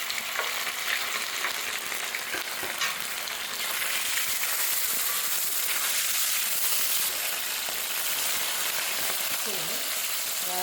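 Meat sizzles loudly in an oiled pan on a gas stove, a dense, continuous frying hiss with occasional stirring scrapes close by.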